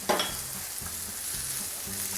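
Chicken mince sizzling in a pan with onion and ginger garlic paste, a steady fry with repeated stirring strokes and no one speaking.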